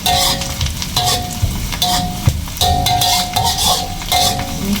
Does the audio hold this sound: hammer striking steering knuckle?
no